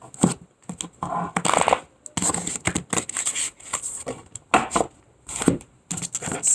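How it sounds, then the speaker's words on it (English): A deck of tarot cards being shuffled by hand, heard as bursts of papery riffling and flicking, close and fairly loud, in uneven clusters separated by short pauses. "I'm going to shuffle this deck."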